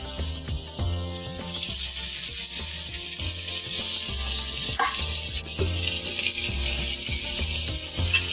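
A loud, continuous sizzle of oil-sprayed chicken searing on a hot grill, close up, with occasional crackles and pops and no talking.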